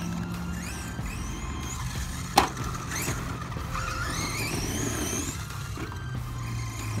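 Pro-Line PRO-MT 1/10 scale 4x4 radio-controlled monster truck running jumps on a BMX dirt track, with faint whining motor pitch sweeps and one sharp thud of a landing partway through.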